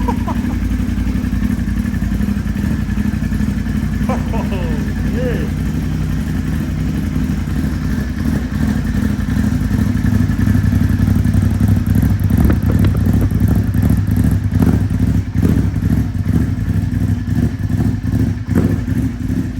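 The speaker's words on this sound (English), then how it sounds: "Bike is cold, so this is a cold start." Cold start of a Ducati Hypermotard 950 SP with a Termignoni full exhaust on a chilly day, a loud, close engine that fires and settles into a rough, rumbling idle with occasional blips, while people talk at times.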